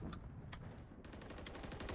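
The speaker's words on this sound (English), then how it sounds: "Gunshots go out." Several sharp gunshots crack in a tactical shooter, spaced irregularly then quickening into a rapid burst, moderately loud over a low ambient rumble.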